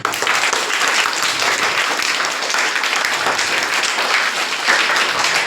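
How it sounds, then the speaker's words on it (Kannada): Loud, dense applause from a crowd at a Kannada medium government primary school, steady clapping that fills the space for several seconds with no talk over it. "ಇದಕ್ಕಾಗಿ ನಮ್ಮ ಕನ್ನಡ ಮಾಧ್ಯಮದ ಶಾಲೆಯಿಂದ ಒಂದು ಜೋರಾದ ಚಪ್ಪಾಳೆ."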